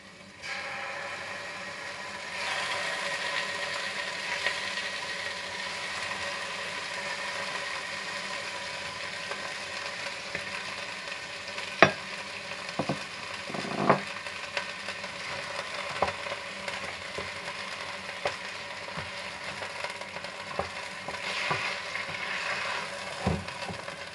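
Meat dropped into a pan with a little butter for Algerian dolma sizzles in a steady, close hiss, broken by occasional sharp clicks and clatter.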